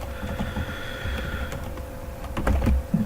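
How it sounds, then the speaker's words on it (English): Quick, light clicking of keys on a computer keyboard up close, an uneven patter of keystrokes over a faint steady hum, a little louder near the end. "We need to type it"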